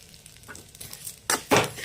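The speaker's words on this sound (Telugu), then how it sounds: "ఇందులో సేమియా ఫ్రై చేసుకోవాలి నూనెలో బాగా" Semiya vermicelli frying in oil for a chicken pulao, starting with a faint low sizzle and then breaking into two loud, sharp bursts of crackling near the end.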